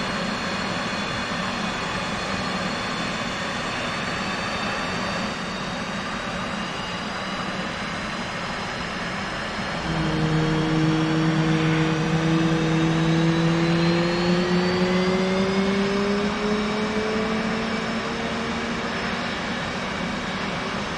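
A simulated F/A-18 jet engine starting up: a loud, steady turbine roar that shifts partway through into a rising whine as the engine spools up, with no voices.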